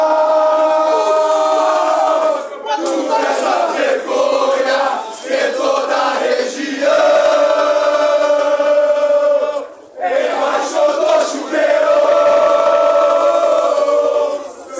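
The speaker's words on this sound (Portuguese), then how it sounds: "Chegaram a gritar aqui, fora Coutinho." A crowd of Passo Fundo football fans chants in unison in protest outside the stadium, loud sustained sung shouts with brief dips, close and continuous.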